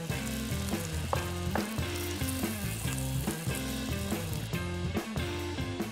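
Fresh red tuna sears in butter in a pan, with a dense, steady sizzle that stays loud and close throughout, over a bed of background music.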